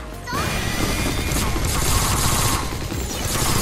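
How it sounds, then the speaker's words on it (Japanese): Continuous dense blasts and crashing gunfire from grenade attacks in Sword Art Online Fatal Bullet, a loud, unbroken barrage of explosions and shots lasting throughout with no talk. "グレネード攻撃が集中しています"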